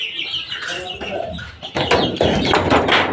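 Native hens and their chicks clucking and peeping inside a coop, a busy overlapping chorus of short calls that grows denser and louder in the second half, with a faint voice underneath.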